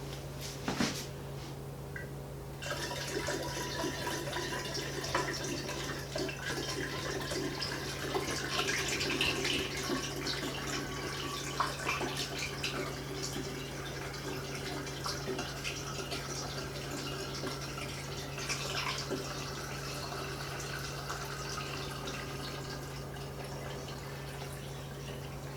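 Water pours steadily into a sweetened tea mixture for kombucha for a long stretch, a continuous soft splashing rush over a low background hum.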